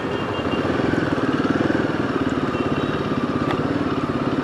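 A Royal Enfield Himalayan 450 motorcycle engine thrums steadily while riding, a close, loud, continuous rhythmic pulse with wind rush layered over it.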